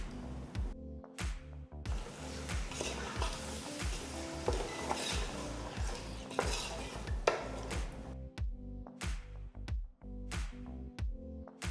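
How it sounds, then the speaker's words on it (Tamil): Lemon juice and yogurt are stirred into a mutton biryani mixture in a pot. A utensil knocks and scrapes against the metal in repeated rhythmic strokes, with short pauses between bursts, close and fairly loud, and no talking. "அடுத்து ஒரு எலுமிச்சை பழத்தோட சாறு, 200 கிராம் தயிர் போட்டு கிளறுங்க."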